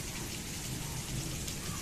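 Steady rain falling during a thunderstorm beside a pond, a dense, even hiss of drops on surfaces that fills the whole moment without pause, loud and close.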